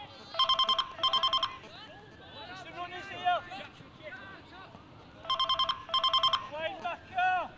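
A telephone rings in two loud bursts of repeated electronic trills at a school football cup final, with crowd chatter, shouting and whistle-like calls from the match around it.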